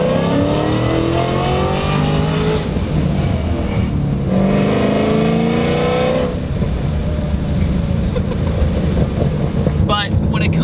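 A supercharged 1000 hp Shelby GT500 Mustang accelerates in repeated loud pulls, engine tone rising with supercharger whine, easing briefly between runs.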